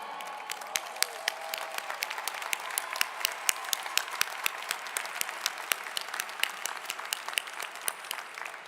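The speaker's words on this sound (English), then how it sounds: "may applaud them together" Commencement audience applauding graduates, a steady wash of many hands clapping in a large hall, with sharper individual claps standing out near the front throughout.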